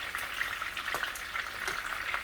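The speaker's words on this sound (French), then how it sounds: "on fait frire d'abord les poivrons" Peppers frying in oil for stuffed peppers, a close crackling sizzle with scattered sharp pops and spatters, moderately loud and continuous.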